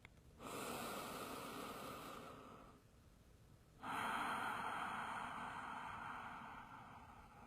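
Slow, deepened yoga breathing close to the microphone: a long airy inhale-exhale runs for about two seconds, a quiet pause follows, then a second, louder and longer breath. No one speaks.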